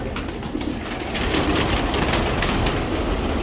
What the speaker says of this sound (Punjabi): ਜਿਹੜਾ ਕਬੂਤਰ ਹੱਥੀ ਆਉਂਦੇ ਉਹੀ ਫੜਨ ਦਿਆਂ।